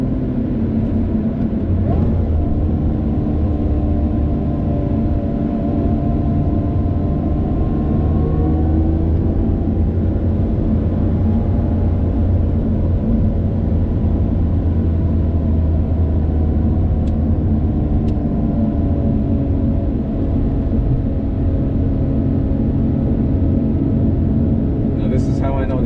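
A 2020 Lotus Evora GT cruising the curves of the Jackie Robinson Parkway, its engine a steady low droning rumble with a constant tonal hum from inside the cabin, no clear revving.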